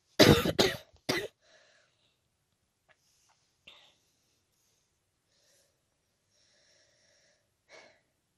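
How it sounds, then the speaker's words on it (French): A short burst of several harsh coughs close up, followed by quiet breaths and faint small noises in a near-silent room. "Ah, c'est compliqué, je tousse encore."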